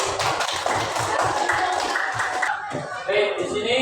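Rhythmic group clapping in a school classroom, a steady patterned beat of many hands that grows busier and brighter toward the end, with some voices over it.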